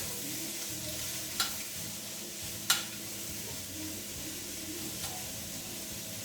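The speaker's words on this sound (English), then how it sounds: "And carrots. Saute them around." Carrots and onions sauté in fat in a pan, a soft even sizzle with a few sharp utensil taps, quiet and close.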